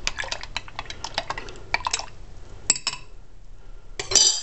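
A spoon clinks and scrapes against a bowl while stirring a yeast mixture for pumpernickel bread, a close run of quick metallic taps and scrapes with brief pauses, ending in a louder clatter.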